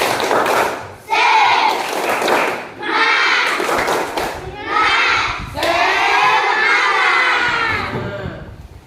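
Schoolchildren in a classroom chant and clap together in the tepuk semangat routine, loud bursts of young voices with rhythmic clapping and thumps repeating in several energetic phrases close by.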